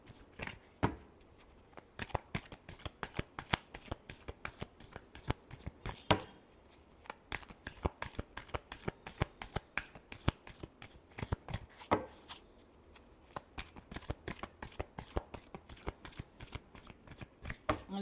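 Tarot cards shuffled by hand in quick, crisp riffling flicks, repeated continuously and fairly quiet, with no talking.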